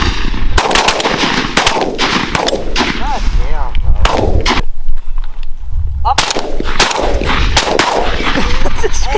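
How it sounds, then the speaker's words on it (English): Shotgun blasts ring out during a mourning dove opening-day hunt, a rapid run of loud, close booms with short pauses between bursts, over wind and outdoor noise. "Two shots, make this count."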